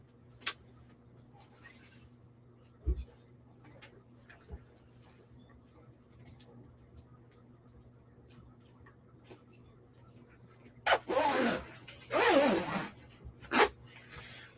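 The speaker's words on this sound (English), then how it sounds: "Let's attach this zipper back" Zipper being fitted back onto an Aspen fleece vest during sewing, a few faint scattered clicks early, then a cluster of quick rasping zips and handling rustles toward the end, with a person speaking quietly.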